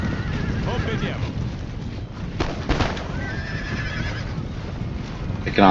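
Horses neigh and whinny amid a battle in the video game Empire Total War, with clip-clop of hooves, wind noise and voices talking underneath.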